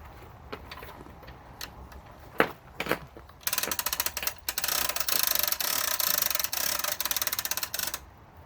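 A trailer tongue jack under a 3000 lb boat trailer is cranked with a ratchet, giving a long run of rapid, close, loud ratcheting clicks after a few scattered knocks, with no talk.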